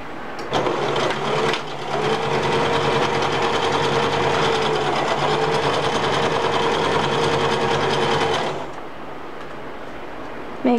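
A sewing machine runs in one steady burst of about eight seconds, stitching fabric for a child's dress-up apron, loud and close before stopping abruptly.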